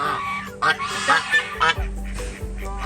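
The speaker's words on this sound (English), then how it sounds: "Geese." Several geese honk in loud, nasal bursts nearby at a nature park, overlapping irregularly with a low rumble underneath.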